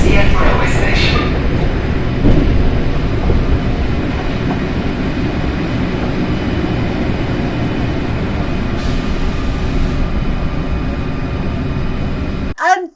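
Lyon metro train pulling into its final station, a steady loud rumble and rail noise that continues for several seconds, ending with a brief chime at the close.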